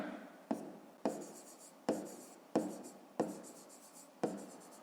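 Pen or pencil writing an answer by hand on paper during a fifth-grade math exercise: close, quiet strokes repeating at a steady rhythm about twice a second, with no talking.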